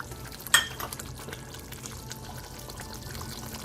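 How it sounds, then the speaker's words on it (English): A brief splash of water being poured into a simmering salmon coconut curry, a short burst that quickly fades into low kitchen background noise. "Adding a little bit of water."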